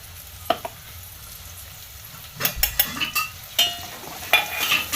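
Masala fenugreek leaves frying in a pan with chilli powder and Maggi masala, with intermittent scraping and stirring clatter over a soft sizzle, growing busier toward the end; no voices.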